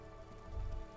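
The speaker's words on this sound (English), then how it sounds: "All around you, rain falls on the great city of Revachol." Steady rain pours over the great city of Revachol in the Disco Elysium game, a dense, even hiss with a deeper rumble swelling partway through, no voices.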